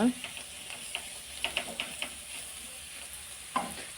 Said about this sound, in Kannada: ಸ್ವಲ್ಪ ಫ್ರೈ ಮಾಡುವ